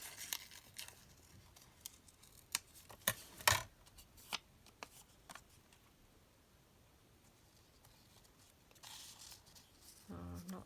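Scissors snip paper as pieces are cut out for a handmade glue-book junk journal, quiet scattered clicks and rustles with a few louder snips, then paper handling and faint talk near the end.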